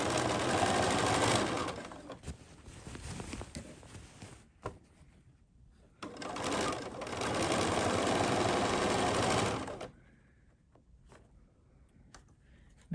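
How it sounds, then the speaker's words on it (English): A sewing machine stitches a quilt block in two long, loud runs of rapid, even needle clatter, separated by quieter pauses with a few soft clicks and fabric handling. "I'm going to sew this block up"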